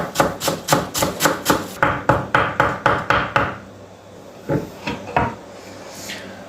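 A knife chops green onions finely on a cutting board for Sultan ezmesi, fast even knocks in a steady run for about three seconds, then a few scattered chops follow, close and clear with no talking.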